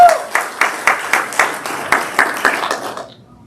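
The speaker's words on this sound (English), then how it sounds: "Hand clap for praise for Deb" A small group at a community coffee morning gives a short round of hand clapping, about a dozen distinct claps in a steady rhythm close by, fading out after three seconds.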